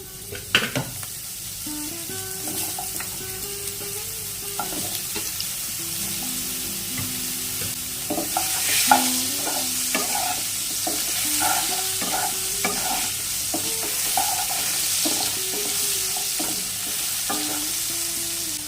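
Chopped bottle gourd frying and sizzling steadily in a pan while a utensil stirs it repeatedly, with scraping and clinking throughout and an opening clatter as the pieces go in.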